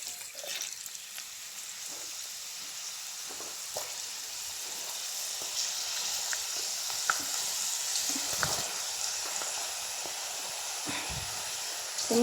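Jackfruit pieces frying in hot oil for chakka pori, a steady close sizzle and hiss throughout with small crackles and pops scattered over it, and no talking.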